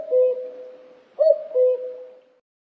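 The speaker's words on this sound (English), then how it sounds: "Cuckoo." A common cuckoo calls its soft, hollow two-note 'cuck-oo' against silence: a lone note first, then a full falling pair about a second later, close and clear.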